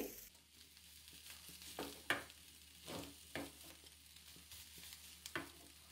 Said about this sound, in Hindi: तकरीबन हम एक से डेढ़ मिनट चिकन को फ्राई करेंगे